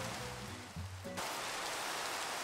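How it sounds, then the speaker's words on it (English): Heavy rain pours in Minecraft, first as a soft hiss beneath low tonal game music, then swelling suddenly into a loud, dense, steady downpour that fills the rest of the moment. "It's raining hard."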